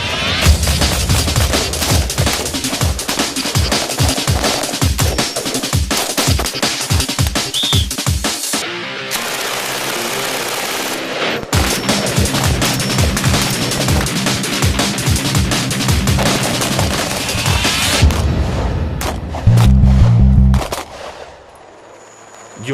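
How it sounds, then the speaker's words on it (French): A FAMAS assault rifle and USP pistol test-fired at a military range in Djibouti before a mission: loud, close rapid strings of shots and bursts, a short break midway, then more firing ending in a few heavy reports. "avant le départ en mission ce soir, on prépare un petit tir de réglage d'armement"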